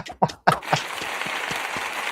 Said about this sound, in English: Cheeto, hit me with that applause button